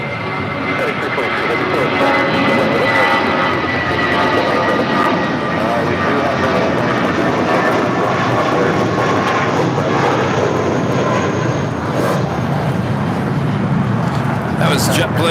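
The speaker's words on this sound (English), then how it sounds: "That was JetBlue Airways Flight 1732 heading to Salt Lake City at A320." A JetBlue Airways Airbus A320 jet departs LAX with a loud, sustained roar that stays powerful and fairly constant throughout, a broad rushing engine noise close by.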